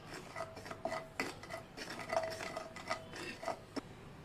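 A spoon scrapes and clinks against a pan while egg masala is mixed with chilli powder and salt, a quiet series of irregular metallic taps and scrapes with no talking.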